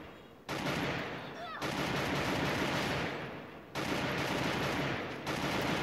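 Video game gunfire in long sustained bursts, loud and dense like rapid automatic fire, separated by brief gaps between volleys.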